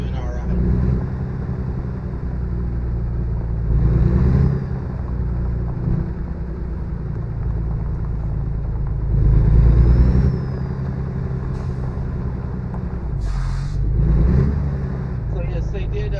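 A truck engine idles and rumbles in American Truck Simulator, a continuous low drone that swells briefly a few times, with a person talking over it throughout.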